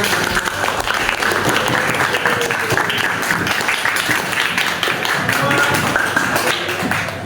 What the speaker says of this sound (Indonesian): Kita berikan tepuk tangan dulu untuk kelompok 5.